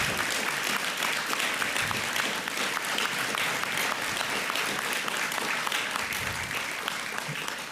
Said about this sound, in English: Can we have a round of applause for Mary Galvin?